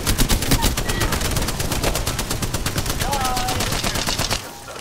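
Rapid automatic gunfire rattles in dense bursts during an Apex Legends ranked match, the shots loud and close, easing off near the end.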